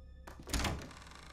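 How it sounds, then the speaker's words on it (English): A single heavy explosion thuds in Resident Evil VII, a deep boom with a short rumbling tail after a quiet start, loud and close with no talk over it. "More explosions"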